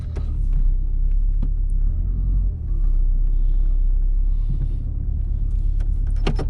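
The Turbo Woody Wagon drives along, a constant low engine and road rumble from inside the car with occasional clicks and knocks from the cabin.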